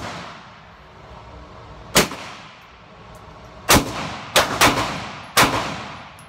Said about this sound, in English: So we're going to do 3 shots every 5 feet.